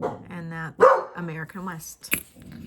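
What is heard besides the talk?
dog barking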